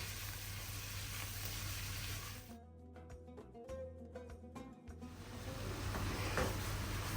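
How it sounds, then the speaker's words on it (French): Green beans sautéing in butter with garlic and chopped parsley give a steady, close sizzle throughout, with a few clinks and stirring taps in the middle stretch. "je vais faire sauter les haricots"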